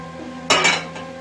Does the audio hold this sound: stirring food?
yes